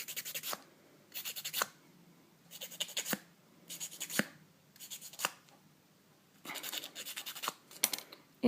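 A file rasps across a nail patch in short repeated strokes, about eight close, quiet bursts of scratching separated by brief pauses.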